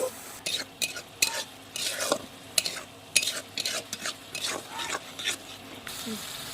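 Potatoes with masala being stirred and fried in a pan over a wood-fired clay stove, with repeated scraping strokes and a soft sizzle underneath, close and fairly quiet.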